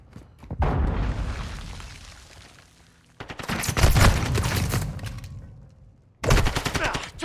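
Cluster mine grenade explosions in an online shooter game: several loud booming blasts with rattling gunfire crackle, in three long waves, each decaying before the next burst hits.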